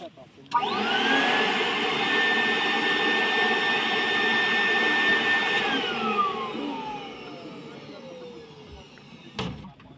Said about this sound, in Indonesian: Ini fungsinya kayak vacuum cleaner. Dia bakal menyedot debu dan partikel-partikel yang ada di sini.